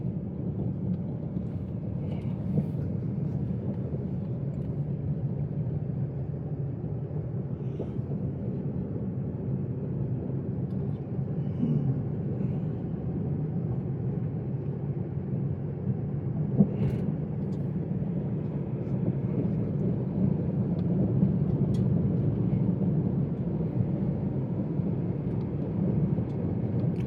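Car cruising steadily in third gear at around 30 to 45 km/h during a driving lesson, a continuous low engine and road rumble holding even throughout with no voices.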